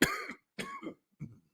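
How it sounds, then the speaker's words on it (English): Three dry coughs, close and fairly loud, separated by short pauses with silence in between. "Yeah, I'm still coughing, but I'm getting better"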